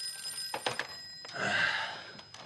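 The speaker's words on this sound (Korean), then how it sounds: "며칠 후 일자리를 찾는 토니에게 전화가 걸려옵니다" A telephone rings in a room in a 1962-set film, its bell sounding in a few short bursts at moderate level with no talk over it.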